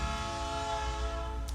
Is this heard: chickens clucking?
no